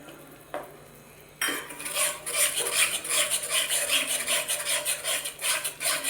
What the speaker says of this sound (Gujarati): બસ આવી રીતના એને સતત હલાવ્યા કરવાનું છે 5 થી 7 મિનિટ સુધી